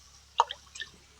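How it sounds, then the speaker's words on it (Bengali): Water is added to a jackfruit and potato curry with shrimp, giving a few short, close splashes and drips against quiet background. "এবার দিয়ে দিব পরিমাণ মতো জল।"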